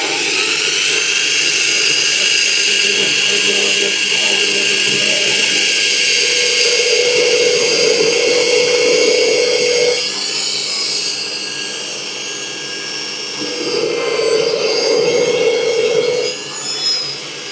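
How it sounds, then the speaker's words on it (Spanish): A 12 mm Forstner bit bores a shallow countersink into wood, heard as a steady grinding drill whir with two sustained louder stretches of cutting over a continuous motor hum, no talk. "lo que voy a hacer es pasarle una broca Fosner de 12 milímetros, que es el diámetro exterior que tiene la tuerca"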